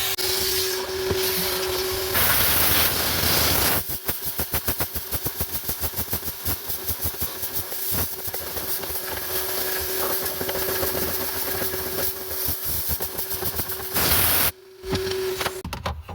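Compressed air blasts through the a/c evaporator of a Kubota SVL track loader, a loud broadband hiss that pulses in rapid bursts, with brief pauses and shifts in intensity as the airflow changes direction.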